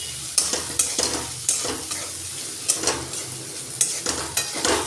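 Taro pieces stir-fried with turmeric and salt in a pan: a steady sizzle broken by repeated scraping strokes of a spatula every half second or so, close and clear, with no talking.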